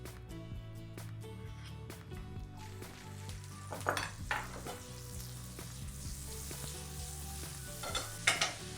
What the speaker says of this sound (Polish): Na patelnię wlewam troszeczkę oleju i dodaję trochę masła.